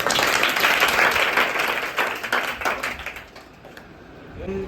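An audience at a Good Friday night prayer quiz claps loudly for several seconds, the clapping thinning into scattered claps, with a voice briefly audible at the end.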